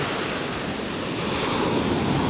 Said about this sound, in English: Oh my gosh, these waves are strong.